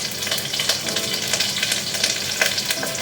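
Cumin seeds and chopped green chillies sizzle in hot oil in an Indian home kitchen, a steady, crackling fry with rapid pops throughout and no talking.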